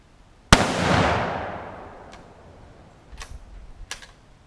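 A .30-06 rifle round fired into a radiator in a backyard, one loud sharp blast with a long rolling decay, followed by a few faint clicks and handling sounds.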